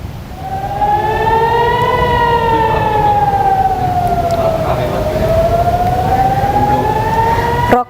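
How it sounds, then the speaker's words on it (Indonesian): A loud air raid siren wails in a slow rising and falling tone during a missile attack on Nahariya, Israel, sustained and prominent over low background rumble. "Sirine pun terus berbunyi tanpa henti saat rudal memasuki langit kota Nahariyah"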